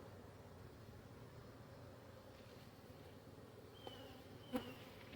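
Honey bees buzzing in winter around an opened hive while burr comb is scraped off, a faint steady hum close by with a couple of brief scraping or tapping sounds near the end.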